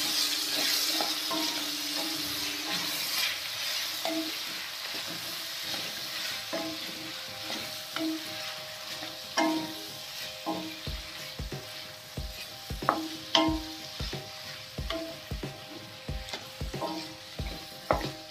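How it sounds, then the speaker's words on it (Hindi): Carrots frying and sizzling in a pan with golden-browned onion and garlic over a medium-low flame, a steady hiss broken by repeated sharp scrapes and knocks of stirring that grow more frequent toward the end. "दो मिनट मीडियम लो फ्लेम पर गाजर को हमें इसमें स्टर करना है"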